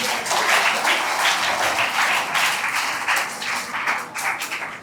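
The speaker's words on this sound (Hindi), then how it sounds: "जोरदार तालियां फेरोज सर के लिए" A school audience at a farewell program applauds a teacher with vigorous, continuous clapping that holds strong for several seconds before tapering off.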